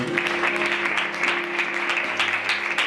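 A church congregation applauds during a French-language worship service, with steady, dense clapping sustained throughout, accompanied by a low held musical tone underneath.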